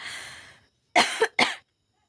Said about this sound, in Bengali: আমার কাশি দেখি হঠাৎ করে হয়ে গেলো